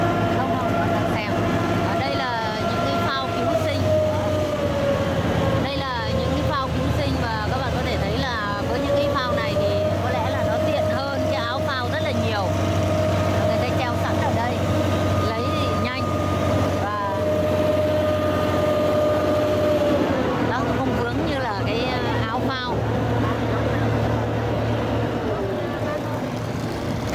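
Steady engine drone of a river ferry crossing in Vietnam's Mekong Delta region, a continuous low rumble throughout with tonal hum and background voices talking over it.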